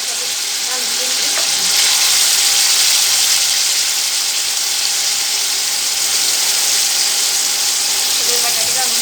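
Potatoes frying in hot oil for sabudana khichdi at home, a loud, continuous crackling sizzle with faint stirring clicks and a few quiet voices in the background.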